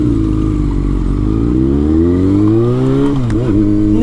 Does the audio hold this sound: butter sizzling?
no